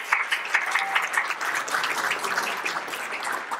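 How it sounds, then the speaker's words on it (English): A room of people at a 7th and 8th grade summer program applauds, a dense steady clatter of many hands clapping at once, lively and sustained throughout. "Give yourselves a hand."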